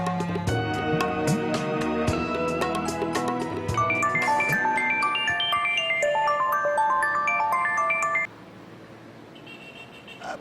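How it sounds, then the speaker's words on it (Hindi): A phone rings with a bright electronic melody during a TV drama scene, the tune repeating in quick stepped notes before it cuts off abruptly, leaving only a faint background. "अब यार तेरे ससुराल से फोन पे फोन आ रहे हैं"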